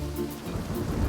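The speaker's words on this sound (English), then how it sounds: "As the rain comes down" Heavy rain falls steadily in Benidorm, a dense low rushing wash with a rumble like distant thunder, brief and alone with no voices.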